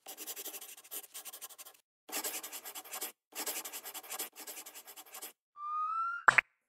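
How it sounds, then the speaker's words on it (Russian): A black pencil colours the wheel treads of a pickup truck picture on paper, giving several close, scratchy bursts of rapid strokes separated by short pauses, then a quick rising whistle-like effect and a sharp final tick. "А теперь черный карандаш раскрасит протекторы колес."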